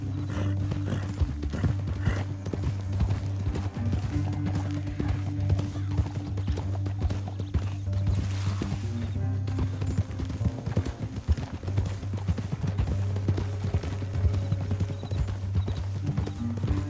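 Horses' hooves clip-clop steadily at a gallop in Red Dead Redemption 2, a continuous rhythmic pounding over a low droning music bed, with an occasional whinny.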